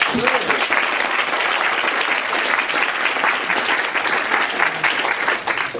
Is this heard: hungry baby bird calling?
no